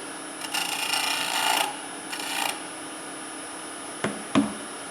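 A woodturning tool cuts into a spinning plywood bell on a lathe, giving bursts of close rasping and scraping over a steady motor hum, followed by a couple of sharp knocks.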